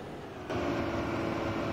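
Freightliner/Thomas FS-65 school bus in a driving video game, its engine droning steadily before a sudden louder rumble as it jolts over bumps, heard from inside the cabin.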